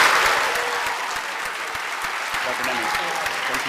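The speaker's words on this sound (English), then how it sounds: "So one more time, Seahawks, a nice round of applause for Dr. Nemi." Audience at a school assembly on vaping gives a round of applause, a dense steady clapping that starts strong and tapers slightly.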